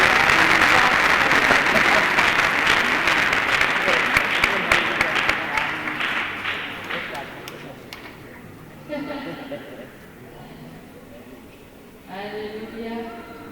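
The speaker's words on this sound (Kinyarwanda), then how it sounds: "Kandi komerwa amashyi cyane." A church congregation at a gospel service breaks into loud, dense applause that gradually fades out after several seconds, followed by a preacher speaking over a quieter room.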